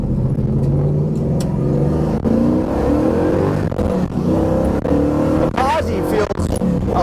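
A Chevrolet F-body car with a swapped 8.8 rear axle accelerates into traffic, its engine note climbing steadily through gear changes, loud and close from inside the cabin, with a continuous low rumble throughout.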